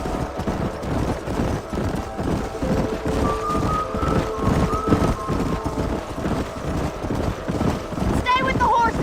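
Hooves of horses being herded up a canyon in Red Dead Redemption clip-clop in a steady, brisk rhythm, close and continuous, with light wind noise in the background.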